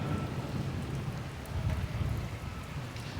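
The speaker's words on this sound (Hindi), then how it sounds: "अभी कभी थोड़ी सी हल्की हो जाती है, फिर तेज़ बारिश का सिलसिला शुरू हो जाता है।" Heavy rain pours during a Karachi thunderstorm, a dense steady hiss with low rumbling swells of thunder, fairly faint overall and without voices.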